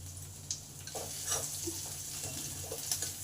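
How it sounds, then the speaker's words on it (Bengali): Cumin, ginger and chopped green chili fry in hot oil in a pan with a soft, steady sizzle, with a few light clinks and stirring scrapes, and a low background hum beneath. "এই জিরে আদা লঙ্কাটাকে ভালো করে ভেজে নিতে হবে।"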